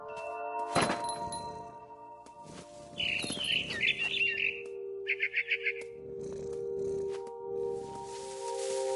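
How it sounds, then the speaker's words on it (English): Birds chirp outside a window in a quiet domestic scene from the video game What Remains of Edith Finch, with short twittering bursts and a quick run of chirps between thuds, soft tones and other game sounds, with no talking. "Then I heard chirping outside my window."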